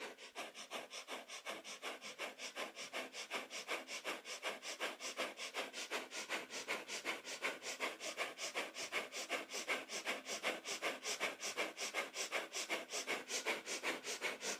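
Breath of fire in kundalini yoga: rapid, even, forceful nasal breaths pumping in a steady fast rhythm throughout, close and clear, with no talking.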